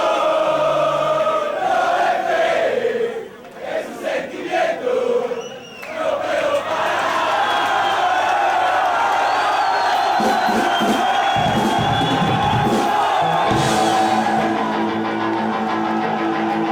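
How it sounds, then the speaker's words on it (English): Packed bar crowd at an Argentinian punk show, a loud mass of voices shouting and chanting in unison, briefly dipping before swelling back into sustained roaring cheers. "The crowd was so loud, they were packed in like sardines"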